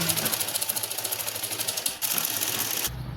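A sewing machine stitches the belt and joints of a salwar with a fast, steady mechanical clatter, close and continuous, pausing briefly before resuming.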